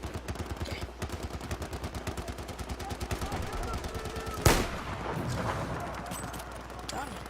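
Rapid automatic gunfire in Battlefield 4 Conquest on the Golmud Railway map, with a steady rattle of evenly spaced shots and a sharp, loud explosion midway, followed by rumbling battle noise.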